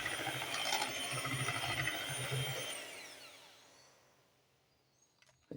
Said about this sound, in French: Mélangeons bien cette pâte.